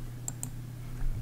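Computer mouse clicks, two sharp close taps in quick succession, followed by a soft low hum in the background.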